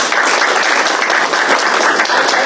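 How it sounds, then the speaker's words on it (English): A room of attendees at a city public works meeting breaks into applause, loud dense clapping that stays close and steady across the whole moment without speech. "that deserves a round of applause in my opinion."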